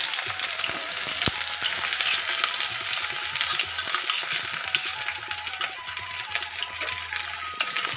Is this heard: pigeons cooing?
no